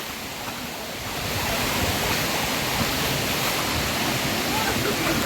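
Gunung Pulai waterfall in Johor, Malaysia, a steady broadband rush of falling water that swells louder after the first second and stays constant and close, with faint voices beneath.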